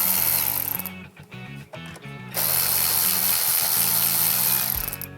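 Hand tools working on a car's air intake tubing during an intake installation, with bursts of ratcheting clicks and mechanical rattling that come in short runs and then a longer steady stretch, close and loud.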